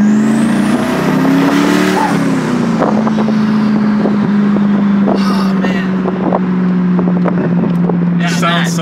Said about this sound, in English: You get that beautiful burble.